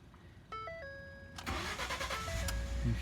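A 2012 Ford F150 STX Supercab 4X4 pickup cranks with a chiming door alert tone in the background, then the engine catches and settles into a rising idle, close and clear.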